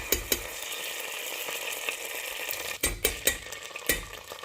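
Pepper pods frying in hot oil in a home kitchen, a close steady sizzle broken by several sharp clinks and scrapes of a utensil stirring in the pan.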